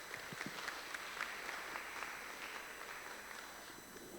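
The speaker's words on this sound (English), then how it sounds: "Big round of applause for Luigi, guys." Applause from a conference audience for a speaker at an AI and crypto talk, a faint, steady patter of many hands clapping at a distance for about four seconds.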